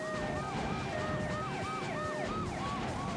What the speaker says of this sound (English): So I need to take down this ambulance, and there's the cop car that's quite angry